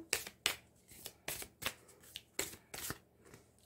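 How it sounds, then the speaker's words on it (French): A deck of oracle cards is shuffled by hand at close range, the quiet room holding about ten crisp riffling flutters that come in an uneven rhythm, with no talk. "je tire déjà la carte de l'oracle"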